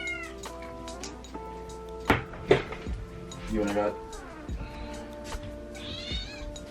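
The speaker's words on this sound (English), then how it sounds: "That was a brief kitten interruption." A kitten meows repeatedly indoors, several short rising and falling cries spread across the stretch, while someone talks over and between them.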